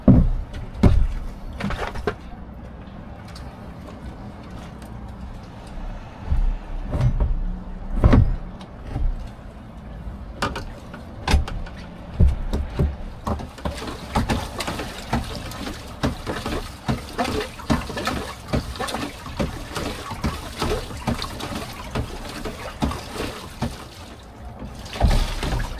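Rainwater being bailed out of an uncovered boat: irregular splashes and scoops of water tossed out, with knocks and clatter in between, close by and uneven in pace.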